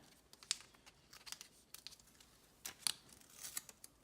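Backing film peeled off press arm tape for a screen printing press, heard as a few brief crinkly tearing rips spaced across a few seconds, close and fairly quiet with no talk.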